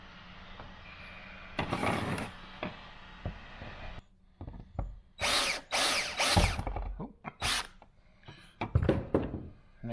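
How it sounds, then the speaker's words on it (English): A power drill with a step drill bit grinds in several bursts, whining and chattering as it drills out a brass rivet in a VW Crafter van interior, with pauses and clicks between runs. "drill out that brass fixing holding it in"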